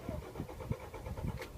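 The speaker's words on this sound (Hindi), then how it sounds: "गाड़ी को हमने दोबारा स्टार्ट किया" A car engine is cranked and restarted after stalling during a driving lesson with a new learner, a few low rumbling bursts close by that settle into a steady engine noise.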